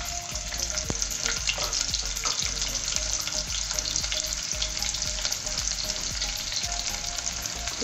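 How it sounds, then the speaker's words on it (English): Onions frying in hot oil for goat pilau, a steady, dense sizzle with faint stirring scrapes, close and continuous throughout, no voices. "We want our onions to just be translucent, not brown."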